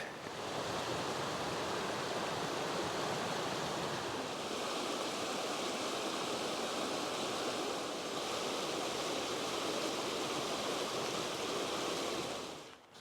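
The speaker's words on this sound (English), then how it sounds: "there's a lot of rain, so the creeks are flowing fairly good" Full, steady rush of a creek running high after heavy rain along a hiking trail at Big Soddy Creek, a broad continuous roar of water heard close and unbroken, with no voices.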